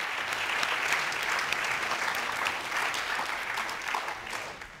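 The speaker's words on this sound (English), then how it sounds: "all of them should get a round of applause sometime, including the current one" Steady applause from a conference audience at a social good summit startup challenge, dense even clapping throughout at moderate loudness, with no voices.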